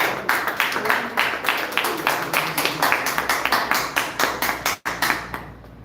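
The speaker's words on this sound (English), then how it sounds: "let's give Theo a round of applause" A room of course participants applauds a presenter named Theo, steady dense clapping from many hands at close range for several seconds, tapering off near the end.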